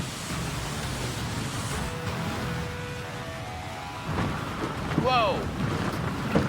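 A small gold-mining boat, the Black Swan, races across the Bering Sea near top speed, its hull hissing through the water under steady wind roar, with one brief excited shout near the end.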